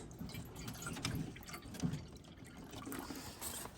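Water is poured into a drinking dish for meat rabbits on a homestead, a soft, close splashing and trickling that rises and dips for a few seconds.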